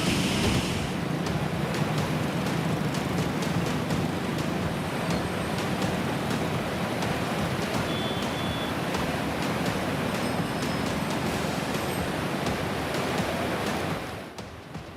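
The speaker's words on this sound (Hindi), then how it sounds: "तूफानी लहरों का कहर" Stormy monsoon floodwater surges and crashes in a continuous, loud roar mixed with wind buffeting, steady for most of the stretch before easing near the end. No voices are heard.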